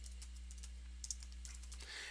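Rapid typing on a computer keyboard comes as a run of light, uneven clicks, close and steady over a constant low electrical hum, with a brief denser flurry of keystrokes near the end.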